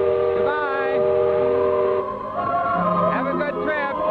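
A steamboat whistle sounds at Disneyland's 1955 grand opening as the boat departs, sustained harmonic blasts with a wavering pitch, mixed with voices in the background.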